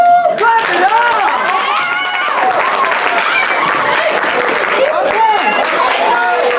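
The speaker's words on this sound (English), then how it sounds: "Clap it up!" An audience claps loudly and steadily while excited voices whoop and talk over the applause throughout.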